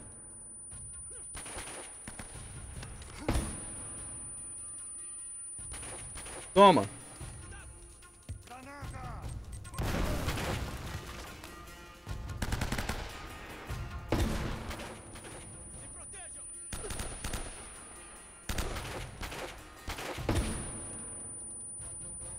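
Shots ring out in the video game Uncharted: Drake's Fortune, scattered bursts of gunfire between pauses, with someone talking excitedly over the action.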